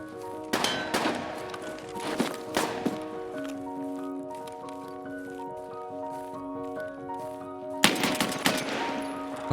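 A gunfight in Escape from Tarkov, with scattered bursts of shots, some nearby and some more distant, set over a steady sustained tone of game audio, ending with a louder volley.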